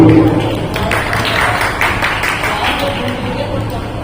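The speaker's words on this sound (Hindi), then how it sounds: "आप सबसे मुझे ताली दीजिए जोर से" A seated audience at an Indian community program claps loudly and steadily for several seconds, a dense wash of hand claps mixed with crowd murmur and talking.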